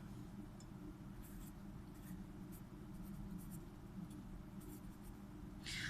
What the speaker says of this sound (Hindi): लिखती हूँ सोल्यूशन।